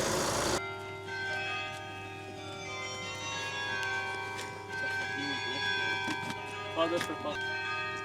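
A church bell rings steadily in a workplace setting, its sustained tones layered and ringing on throughout under background chatter and noise.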